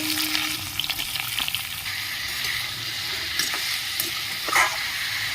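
White watermelon rind pieces fry in a pan with a loud, steady, close sizzle and crackle, joined now and then by the scrape of stirring.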